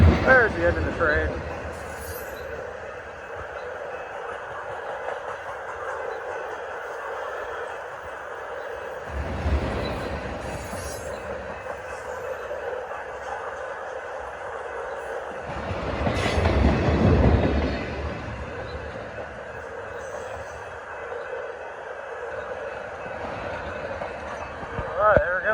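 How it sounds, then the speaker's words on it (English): A Norfolk Southern grain freight train rolls past on the rails, a long steady rumble of wagons with rhythmic wheel clatter that swells twice as heavier cars pass close by, loud throughout. "There's the end of the train."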